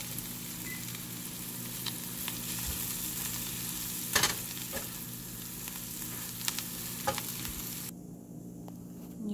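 Egg bhurji with fresh coriander fries in a pan, a continuous close sizzle broken by occasional clinks and scrapes of a spoon as it is stirred, the hiss dropping away near the end.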